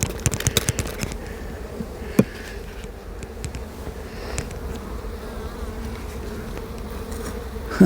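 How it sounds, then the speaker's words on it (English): Honey bees buzz steadily inside an open hive during a spring inspection, a dense close drone that holds throughout, with a few sharper clicks and knocks from handling the frames. "No shortage of bees there at all."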